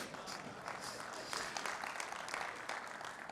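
Applause from a keynote audience at a Spiceworld 2022 conference, a dense wash of many hands clapping at once, steady and sustained with no pauses and no talking over it.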